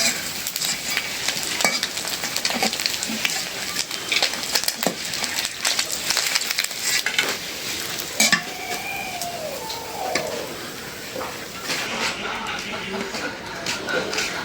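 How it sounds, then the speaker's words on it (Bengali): Koi fish fry in hot oil in a pan, giving a continuous crackling sizzle, with occasional stirring scrapes and light metallic clinks of a utensil against the pan. "মাছ ভাজা তেলে আরেকটু একটু দিই"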